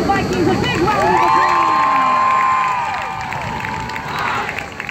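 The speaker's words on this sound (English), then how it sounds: "give the Miami Dolphins Vikings a big round of applause" A crowd at a high school football halftime show cheers and applauds for the Miami Dolphins Vikings, with loud shouts and whoops over a roaring, sustained din that eases slightly toward the end.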